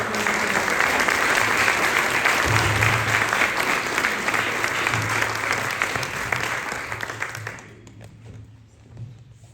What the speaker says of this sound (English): How about a round of applause for our state representative?